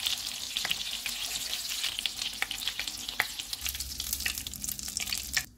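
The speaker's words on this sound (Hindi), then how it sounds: "कबाब फ्राई हो गए हैं, इनको निकाल लेते हैं।" Kebabs frying in hot oil in a pan give a steady, close sizzle with bursts of crackling and popping, plus occasional stirring or scraping, and no voices.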